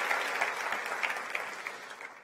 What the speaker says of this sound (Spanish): Dele un aplauso al Rey bendito.